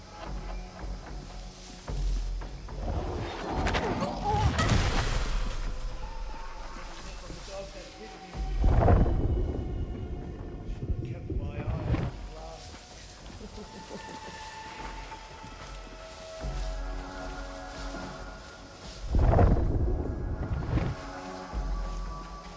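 Deep thunder booms roll in three big swells over wind and rumbling ambience during the stormy opening of the video game Unknown 9: Awakening, with voices speaking between the crashes.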